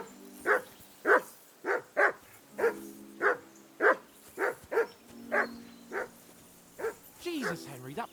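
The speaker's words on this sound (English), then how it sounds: "I assume you can hear that damn dog of yours barking." Dog barking in the video game Kingdom Come: Deliverance II, a steady series of about a dozen loud, evenly spaced barks close by, ending in a quicker flurry.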